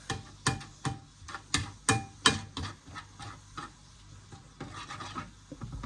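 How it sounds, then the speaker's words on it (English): Mince frying in a pan makes a quiet, intermittent crackle and sizzle, broken by repeated sharp clicks and taps of a utensil against the pan in an irregular rhythm, heard up close with no talk. "it does take a little while to fry mince off"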